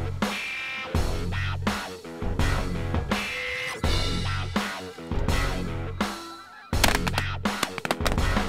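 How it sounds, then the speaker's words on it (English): A large flock of snow geese honks in flight during a 2014 goose hunt: loud, dense, overlapping calls arriving in repeated surging bursts, nearby and without speech. "Thousands of snow geese are still flying and heading right at us."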